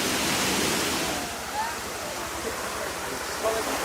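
Rushing water from a natural waterfall in Romania makes a steady, loud broadband roar throughout, with faint voices partly under it.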